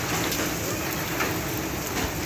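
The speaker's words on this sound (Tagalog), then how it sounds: "Yan, lakas ng ulan." Heavy rain pours down near a building behind a mall during a hailstorm, a dense, continuous hiss of drops drumming on surfaces, close and steady throughout.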